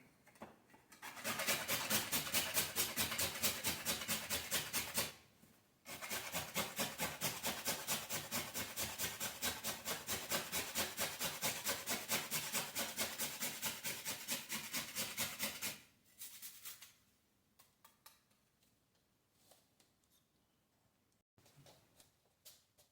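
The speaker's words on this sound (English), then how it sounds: "That's my nutmeg and grating right here." Nutmeg scraped against a grater for Jamaican potato pudding: a close, loud, rapid rasping stroke rhythm that runs for several seconds, pauses briefly, then carries on for about ten seconds before stopping.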